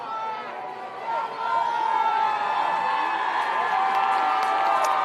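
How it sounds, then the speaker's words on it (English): A high school football crowd at Northrop swells into loud, sustained cheering and roaring on a fourth-and-five play late in the game, with an announcer's voice carrying over the noise. "Northrop crowd getting loud here on 4th and 5"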